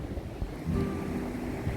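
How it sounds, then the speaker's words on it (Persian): Sea waves wash continuously as a broad, steady roar of surf mixed with wind rumble, close and fairly loud with no voices. "صدای موجت ای دریا برایم شعر زیبایی است"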